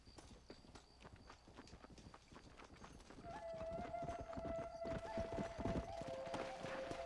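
Rhythmic clip-clop of horse hooves in Red Dead Redemption runs throughout, and a high, drawn-out whinny rises partway through. The hoofbeats grow louder toward the end.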